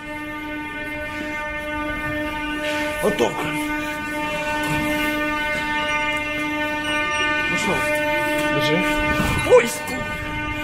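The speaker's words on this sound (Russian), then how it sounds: "Вот же наш поезд." A train pulls into a station with a sustained tonal whine and a low rolling rumble throughout, accompanied by a few brief knocks and people speaking nearby.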